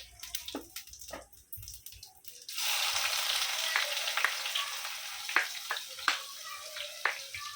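Cumin, curry leaves and onion hit hot oil in a small kadhai for moong amti, with a few light clinks first and then a sudden loud steady sizzle with crackling pops throughout.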